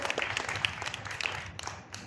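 Audience applause at a children's pathshala prize distribution program during Paryushan, steady broadband clapping from a crowd filling the whole stretch at moderate, slightly distant level.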